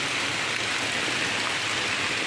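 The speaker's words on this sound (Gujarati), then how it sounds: "તમે આ વરસાદ જોઈ શકો" Monsoon rain falls steadily outdoors, an even, close hiss of countless drops that holds unchanged through the short stretch, with no one speaking.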